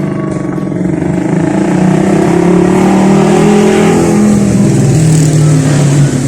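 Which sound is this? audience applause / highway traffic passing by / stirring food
highway traffic passing by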